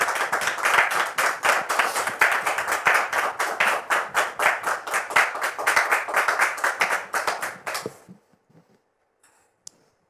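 A studio audience on a French talk show claps for an arriving guest, a fairly close, rhythmic burst of hand claps lasting about eight seconds before stopping abruptly into near silence.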